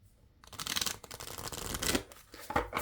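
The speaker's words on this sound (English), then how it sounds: "I do get a smoother shuffle with that riffling, doing the side shuffle." Playing cards riffle together in quick fluttering bursts, close and crisp, followed by a softer snap as the deck squares up.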